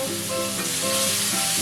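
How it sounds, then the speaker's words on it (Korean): Soy-marinated meat frying in a little grapeseed oil in a pan, a steady, dense, close sizzle with faint crackles and stirring throughout, no voices. "불을 켜고 포도씨유 약간 두른 뒤 간장 양념 고기부터 볶을게요"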